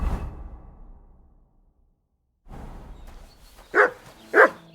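A dog in Kingdom Come: Deliverance 2 gives two short, sharp barks near the end, after a faint rustle and a quiet gap.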